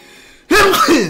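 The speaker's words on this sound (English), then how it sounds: "I'm sorry that I'm so full of sneezes today." A single loud, close sneeze bursts out of near silence, with a sharp intake and explosive release.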